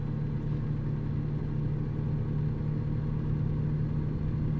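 An aluminium flatbed double rig in American Truck Simulator hums along at speed, a steady loud low engine drone with a constant tonal whine and road rumble, unbroken and without voices.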